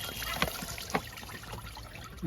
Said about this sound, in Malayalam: വെള്ളം നന്നായി ഒഴിച്ച് കഴുകണം